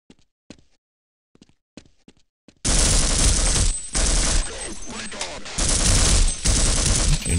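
Loud bursts of automatic gunfire aimed at vortigaunts in the video game Half-Life: sustained, dense rapid shots that start abruptly after a few faint clicks and thuds, with a brief pause midway before the shooting resumes.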